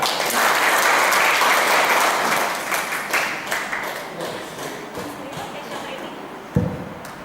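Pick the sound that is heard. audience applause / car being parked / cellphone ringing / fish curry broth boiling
audience applause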